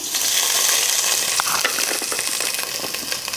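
Whole spices (star anise, cinnamon, mace, a little nutmeg) and chopped ginger sizzle in a spoonful of white oil for basanti pulao, a steady, loud, crackling fry with small pops throughout.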